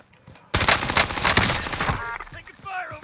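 Video game gunfire: a dense, loud burst of rapid automatic shots kicks in suddenly and rattles on for over a second before fading into scattered impacts, with a voice speaking briefly afterward.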